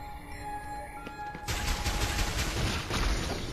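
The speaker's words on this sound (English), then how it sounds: "There you go, missile attack." A missile attack in the video game Metroid Samus Returns erupts after a quieter tonal stretch into a dense, rapid barrage of blasts that holds for the remaining two seconds.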